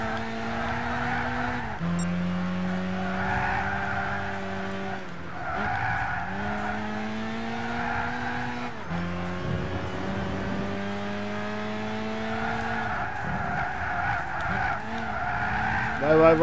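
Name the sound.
race cars skidding in video game Gran Turismo 6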